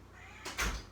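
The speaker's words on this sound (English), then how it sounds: "My cat is meowing at the door." A single short meow from a male cat at a door, close and fairly quiet, with a faint bump like the door moving; no voices.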